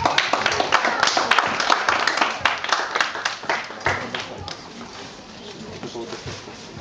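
Spectators applaud at an awards ceremony for the Ukrainian aquabike championship in Nova Kakhovka, with a dense run of sharp hand claps that thins and fades to scattered claps while an announcer's voice carries over it.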